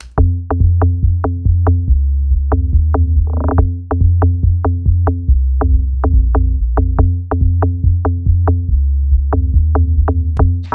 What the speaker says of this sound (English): So this is the beat without the plugin.